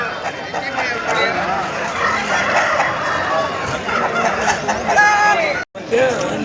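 Chickens and roosters at the Pileru poultry market cluck and crow close by over a dense bed of crowd chatter, with occasional louder squawks and voices mixing in.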